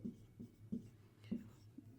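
Marker or chalk writing on a board during a math lesson, several short scratchy strokes in an uneven rhythm, faint and close, with soft murmuring in the background.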